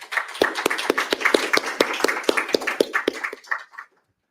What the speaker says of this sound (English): Please give a great round of applause to our wonderful panelists.